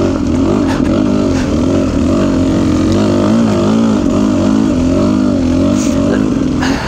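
A motorcycle engine revs loudly and steadily while being ridden through a snowy mud slick. The close, continuous roar wavers in pitch as the throttle and clutch are worked.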